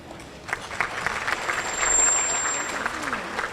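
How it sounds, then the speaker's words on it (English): Audience applause at a bayside university foundation brunch, a steady wash of clapping hands that swells toward the middle and tapers off, with faint voices mixed in. "Y'all don't really listen too well to hold the applause direction, right?"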